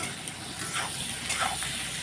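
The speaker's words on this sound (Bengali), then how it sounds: "পেঁয়াজটাও ভাজা ভাজা হোক" Sliced onions sizzle with dried fish in a hot pan at home, a steady, close crackling fry with occasional soft stirring scrapes and faint spatters.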